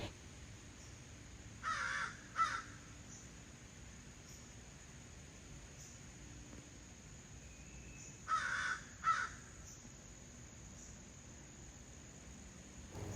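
Two distant pairs of crow caws several seconds apart over a steady hiss of crickets and insects, otherwise quiet outdoors.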